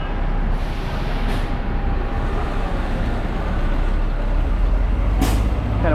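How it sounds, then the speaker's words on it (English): A city bus on a busy Macau street with a sharp hiss of air brakes releasing, set against a loud steady rumble of idling engines and road traffic, with brief bursts of hiss standing out. "Kind of want to catch that 33 bus."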